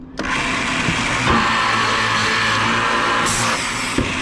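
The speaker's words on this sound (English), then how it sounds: "it's drilling the dowel holes as well as the cup hole" Blum hinge boring press drilling dowel and cup hinge holes into a wooden panel, a loud steady motor whine with brief clunks as the bits engage and release, no talking.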